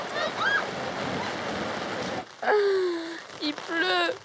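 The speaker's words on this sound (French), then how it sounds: "Il pleut." Rain falling steadily outdoors, a dense hiss of drops for about two seconds before it drops away, and people then talk close by.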